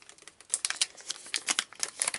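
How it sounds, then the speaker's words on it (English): Resealable mylar packaging holding the burn unit of an ultra lightweight stove, crinkled by hand in quick, close, sharp rustling bursts. "You have the actual burn unit itself inside this mylar packaging, which is resealable."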